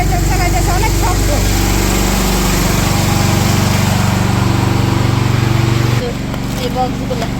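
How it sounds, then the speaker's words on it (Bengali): A generator runs loud and steady during a power cut, a constant droning engine hum that drops to a quieter level near the end, with background voices under it. "কারেন্ট নাই, জেনারেটর চালাইতেছে, অনেক শব্দ।"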